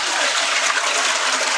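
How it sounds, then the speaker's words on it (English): A toilet flush rushes in a brief, steady burst of gushing water, close and fairly loud. "water comes out, you are flushing"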